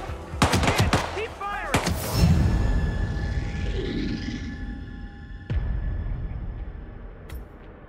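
Gunfire in Hitman 3 on Switch: a rapid cluster of sharp shots in the opening two seconds, then a single later crack amid game ambience, with brief talk.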